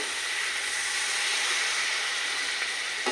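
Water poured into a hot pan of Assamese local chicken curry on a gas flame, giving a steady, moderately loud hiss that stays even throughout, with no talking.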